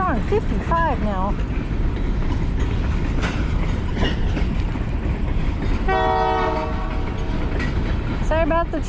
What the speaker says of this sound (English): Train going by, looks like Canadian Pacific.